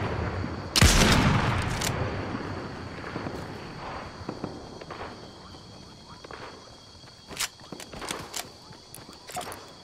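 Gunfire in Fortnite during a random squads match, heard as a loud near shot burst at the start and then scattered sharp cracks of varying distance over a steady game background with footstep-like sounds.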